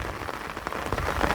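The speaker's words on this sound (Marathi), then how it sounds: "आता पाऊस पडायला लागला आहे" Steady, dense rain falls on an open farm field in Konkan, a close and even hiss of drops with no voices.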